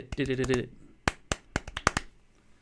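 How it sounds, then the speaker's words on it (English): Rapid hand clapping in a burst of quick claps at the start, then several sharp separate claps spaced apart, close and dry, with a voice briefly over the opening. "Can you even clap that fast?"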